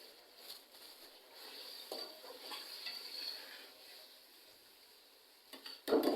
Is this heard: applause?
no